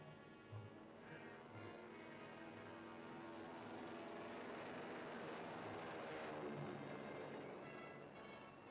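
A World War II era military aircraft takes off, its engine drone building steadily and swelling toward the end, faint and distant on an old 1946 recording.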